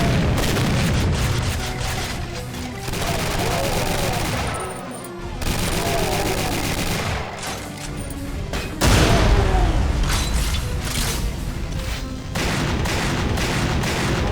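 Dual-wielded octa-barreled shotguns in the Doom Guncaster mod let loose a dense, loud barrage of booming blasts, one heavy volley after another with almost no gap between them.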